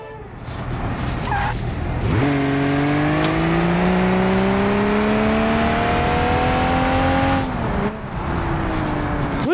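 A car engine with a damaged exhaust in the BeamNG driving game revs up loudly and holds a steady rising drone, with a rough tire or road noise underneath and a brief dip near the end.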